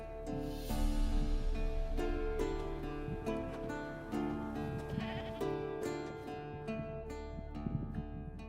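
A goat tied to a stake as forktail bait in the Witcher 3 video game bleats several times over a steady musical background, fairly clear and close.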